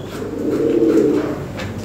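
Blue bar Lahori pigeons coo close by in a soft, low, rolling murmur lasting under two seconds, with no talking.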